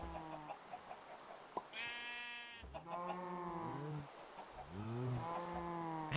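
Several sheep bleats from the Minecraft video game, a run of distinct harmonic calls following one another over a quiet background, fairly close and clear with no talking.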